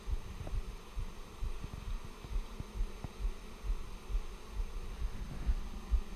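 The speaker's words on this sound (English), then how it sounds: "They're humming in here, so I suspect the queen's not here, but in this box." Honeybees hum inside a hive box during a pack-down from three boxes to two, giving a steady low drone with soft thumps and handling knocks over it.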